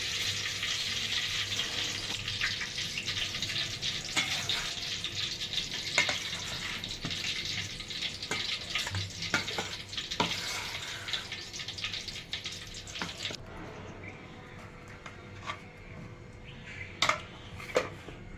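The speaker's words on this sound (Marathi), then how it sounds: "बेसन पिठामध्ये आता हे मिरच्या टाकून घेते आणि आता हे एक एक करून तळून घ्यायचे" Green chillies coated in gram flour batter deep-fry in hot oil, a steady broad sizzle with bubbling crackle that softens partway through, with a few sharp pops and clinks near the end.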